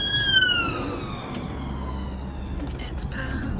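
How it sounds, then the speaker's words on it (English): An ambulance siren wails on a road, its falling tone sweeping loudly at first and then fading as it passes, with faint traffic rumble and a few clicks beneath. "There's an ambulance. Stop and let it past."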